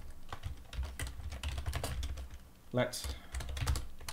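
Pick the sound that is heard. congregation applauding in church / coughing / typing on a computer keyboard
typing on a computer keyboard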